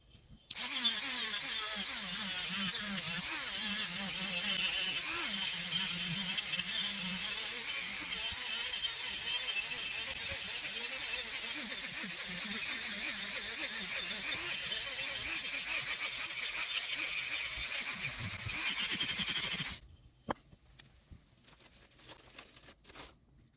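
Polishing an aluminum part from a vintage Luxor Pezon Michel spinning reel with a rotary tool gives a steady, loud whirring hiss with faint scraping that runs for about twenty seconds before cutting off to quiet handling.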